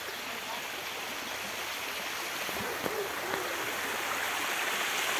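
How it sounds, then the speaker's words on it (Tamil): Forest stream water flowing steadily, a broad continuous wash and rush that stays fairly loud and even throughout, with a couple of faint knocks and no speech. "தண்ணி நல்லா போகுது இப்போ."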